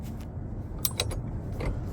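A removable steering wheel's locking collar is spun by hand after a button is pressed, giving a few short, close mechanical clicks and ratchety rattles over a low steady background hum.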